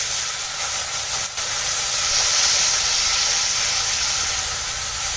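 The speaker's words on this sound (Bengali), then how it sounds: "মানে একটু গরম জল দিয়ে দিচ্ছি।" Hot water poured onto a frying paste of cumin, coriander and chili powder sets off a loud, continuous steam hiss. The hiss holds steady and close for several seconds with no talking.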